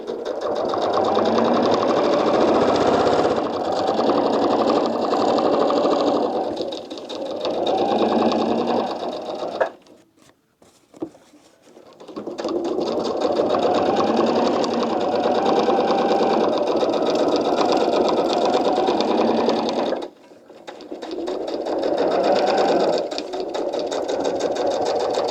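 An Elna sewing machine stitches at a 3.0 stitch length in long, loud, steady runs of whirring needle action, stopping twice for brief pauses that carry faint clicks before the motor starts again.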